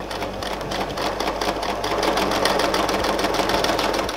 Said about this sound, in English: Next step is to sew that line.